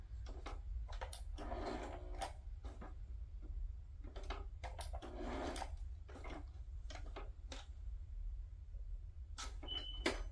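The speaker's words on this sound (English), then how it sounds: "My sewing machine isn't messed up." A sewing machine stitching a small glassine bag runs in short, quiet bursts, its whirring interspersed with soft clicks and pauses against a low steady hum.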